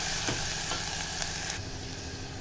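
Chopped onions with salt fry in a pan, a steady broadband sizzle with scraping stirs at a regular pace, fairly close and continuous.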